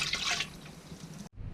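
Yeast nutrient being poured into grape must for homemade Shiraz wine: a steady, close splashing trickle of liquid for just over a second, then a brief pause and a quieter dribble.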